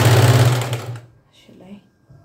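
A sewing machine runs briefly while stitching a readymade blouse, a loud close whirring burst of about one second that stops abruptly, followed by quieter faint talk and handling.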